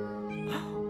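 A single cat meows once, a clear, close, drawn-out cry rising in the middle of the second over a steady background hum.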